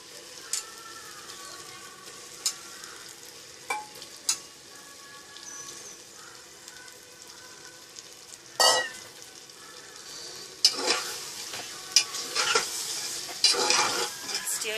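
Mutton curry with tomatoes stirred in a pan, a low sizzle punctuated by spaced spoon clinks and scrapes that grow busier and louder toward the end.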